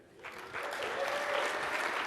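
Audience applause breaks out at a MIX09 conference session on Silverlight animation, swelling within the first half second into steady, dense clapping from a large room that holds for about two seconds.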